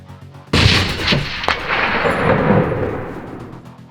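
A test gun fires a projectile at a steel target in a ballistics range: one sharp, loud blast, a brief crack, then a long rumbling echo that slowly fades.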